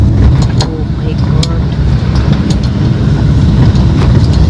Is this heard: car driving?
yes